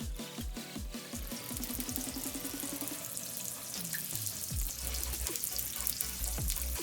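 Lard sizzles and crackles steadily in a hot pan, a dense, continuous frying hiss with scattered pops and some clattering of metal near the start, loud and close with no talking.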